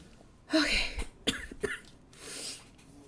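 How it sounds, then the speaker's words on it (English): A few short, sharp coughs from one person, close and fairly loud, in a quick cluster with a softer throat sound trailing after, otherwise quiet. "I'm just coughing."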